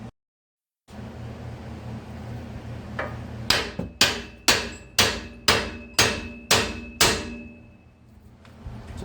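A hammer strikes a Ford F-150 upper control arm to pop the ball joint loose, about eight sharp metallic blows in a steady rhythm, loud and close with ringing decay and no talk.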